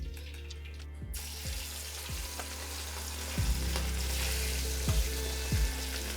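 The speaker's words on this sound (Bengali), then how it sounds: "এবার এই একইভাবে আমি বাকি মাছগুলোকেও ভেজে নিচ্ছি।" Pieces of katla fish fry in hot oil in a pan, a loud continuous sizzle that swells after the first second and carries on steadily, with a few soft low thumps underneath.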